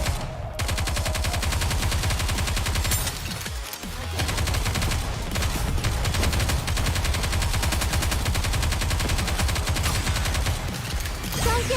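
Sustained gunfire from the Nikke video game, with rapid automatic bursts layered over a dense background score, continuous and loud throughout with a brief lull partway through.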